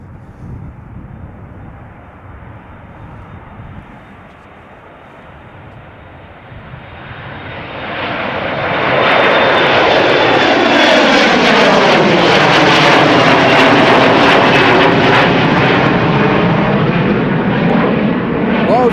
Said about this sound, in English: the airplane is passing us by like this airplane just now did